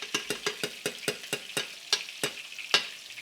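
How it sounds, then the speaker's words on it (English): Rice with coconut milk and butter is stirred in a pan, a steady series of about a dozen evenly spaced scraping strokes over a faint sizzle, close and with no talk. "I'm stirring because I want to make sure that the,"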